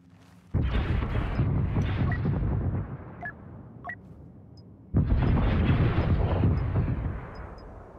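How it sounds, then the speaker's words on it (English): Two loud grenade explosions in Star Wars Battlefront 2 battle on Takodana, each a sudden broadband blast with a long rumbling tail, separated by a brief lull with scattered distant shots. "Throwing grenade!"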